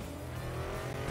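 A Porsche engine in the racing game Need for Speed Most Wanted (2012) roars loudly and steadily throughout, a continuous dense drone with no talking.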